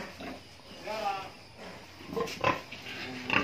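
Pigs on a rural farm in Bicol grunt in short, irregular bursts at close range, mixed with someone talking over them.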